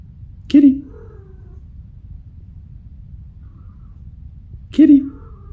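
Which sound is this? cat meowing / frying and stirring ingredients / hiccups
cat meowing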